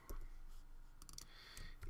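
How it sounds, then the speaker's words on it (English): Keys on a computer keyboard are typed quickly, with a handful of sharp, close clicks in short bursts and quiet gaps between them. "We're going to type this word energy."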